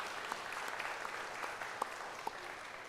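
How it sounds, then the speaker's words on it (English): A school chapel audience applauds a judge at a student leadership summit, a fairly soft, even wash of clapping with a few sharper individual claps standing out. "how about a round of applause for Judge Rowe?"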